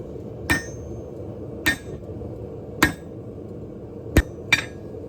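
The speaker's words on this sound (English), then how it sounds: "That's why I'm using the giant hammer." Heavy blows from a big forging hammer ring out on knife steel, five spaced strikes with the last two closer together, over a steady low background hum.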